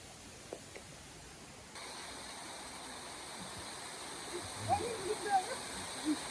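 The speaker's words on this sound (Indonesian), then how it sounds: "sekarang kita udah sampai nih di Sungai Mudalnya" River water flowing steadily at Sungai Mudal, an eco-tourism spot in a green mountain setting, heard as a constant outdoor rush that grows louder partway through, with a few faint bird calls near the end.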